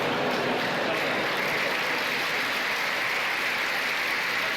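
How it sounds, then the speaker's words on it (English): Dense, sustained applause from a crowd, a continuous wash of clapping at steady loudness. "A round of applause on a joke about the worst thing that's ever happened?"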